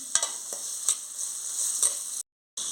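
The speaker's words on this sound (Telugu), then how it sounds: "ఇప్పుడు అల్లం వెల్లుల్లి పేస్ట్ వేసుకుంటున్నాను ఇది కొంచెం బాగా వేయించుకోవాలి" Ginger garlic paste fries with mushrooms in a pan, giving a steady close sizzle broken by a few soft stirring scrapes, then a short silence.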